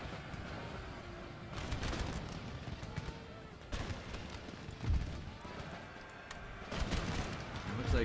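Musket volleys from infantry units in Empire: Total War crackle in repeated bursts, some close and loud, others distant, layered over a constant battlefield rumble.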